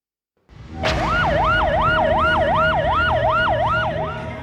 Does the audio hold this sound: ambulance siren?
yes